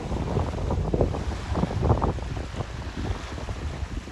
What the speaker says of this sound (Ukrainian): бо таке дме, що взагалі я тут єлі стою